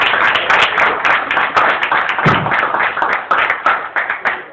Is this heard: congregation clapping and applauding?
yes